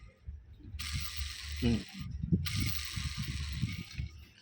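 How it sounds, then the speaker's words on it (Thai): A worn bearing in a washing machine motor, the upper bearing, is spun by hand. It gives two stretches of harsh, hissing grinding over a low rumble, up close, with a short pause between them. "ลองหมุนเบิ้งนะครับก็มีเสียงดังแล้วนะครับ"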